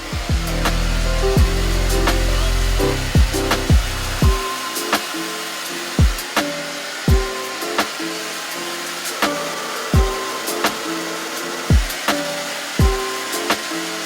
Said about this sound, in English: I want to quickly just dry out my hair and use some products as well